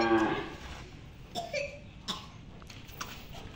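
A young seven-month-old calf of a rare colour, kept at a cattle contest farm, gives a short moo at the start, followed by a few softer bleats and snorts against a quiet background, with no talk.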